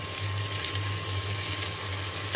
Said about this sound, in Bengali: এখন ঘিয়ের সঙ্গে খুব ভালো করে ভেজে নেব